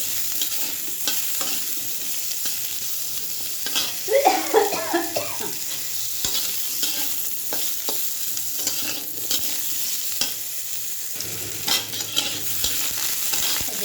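Green chillies sizzle in a hot pan for a home-cooked Bengali dish, with a steady frying hiss broken by scraping stirs and a few louder clatters of the spatula partway through.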